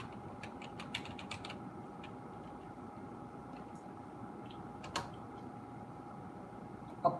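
Fingers tap on a computer keyboard in a quiet room, with scattered faint keystrokes and a few sharper clicks over a steady low hum.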